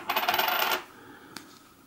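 A euro coin drops into a small hand-sewn pouch, giving a quick clinking jingle that rings briefly and fades, followed by one faint tick in a quiet setting.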